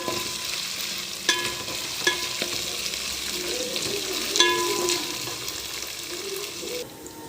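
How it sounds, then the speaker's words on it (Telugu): Sliced onions with a spoon of homemade ginger-garlic paste and turmeric fry in a pan for an eggplant curry, a steady close sizzle broken by a few sharp clinks and scrapes of a stirring spoon, with no one talking. "ఒక స్పూన్ ఆఫ్ అల్లం వెల్లుల్లి మా ఇంట్లోనే చేసిన అండి ఇది కూడా పచ్చివాసన పోయే వరకు వేపుకోండి"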